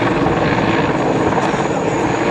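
German Army CH-53 helicopter with twin General Electric T64 turboshaft engines, flying an air display at the ILA Berlin Air Show: a loud, dense, continuous rotor and turbine roar that stays steady and close.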